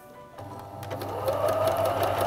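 A sewing machine runs steadily, stitching bias binding onto fabric using a feather stitch with a small binding funnel, its motor hum and rapid needle rhythm building from a brief start and continuing close and loud.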